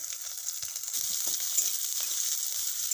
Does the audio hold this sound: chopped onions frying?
yes